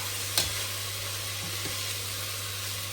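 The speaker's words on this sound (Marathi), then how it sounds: "हलक्या हाताने मिक्स करून घ्यायचं आहे ह्याला" Pulav being gently mixed with salt and garam masala in a pan: a faint, steady background of soft stirring and low sizzle, with one brief scrape near the start and a couple of quiet taps, no voices.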